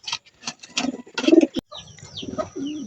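Racing pigeons coo in low, throaty bursts at a loading station before a training release, with brief wing flaps and chirps and a sharp knock partway through, close by and moderately loud.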